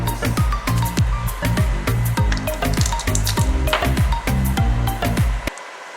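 Chicken cooks in a pan, sizzling and frying loudly and close up, with repeated scraping stirs at an uneven rhythm until the sound cuts off abruptly near the end.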